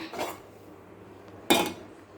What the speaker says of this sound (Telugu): ఇప్పుడు స్టవ్ ముట్టించి బాండిల్ పెట్టుకున్నాం.